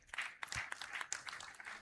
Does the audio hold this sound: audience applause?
yes